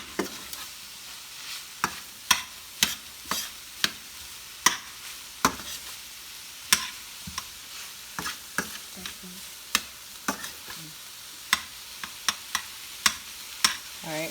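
Ground turkey cooking in a pan, a soft continuous sizzle broken by frequent sharp clacks and scrapes of a utensil stirring at an irregular pace, close by with no talking.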